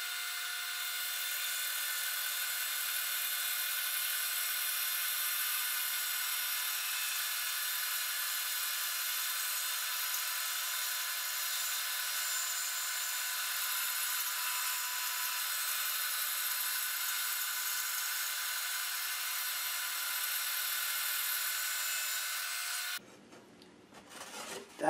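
A band saw fitted with an Accu Slice system resaws a wide wooden board, giving a continuous, even, high hissing whine for over twenty seconds before the cut ends abruptly.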